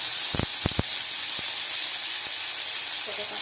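Tomato dropped into hot oil with black cumin, giving a steady loud sizzle and hiss with a few sharp clinks of a utensil near the start.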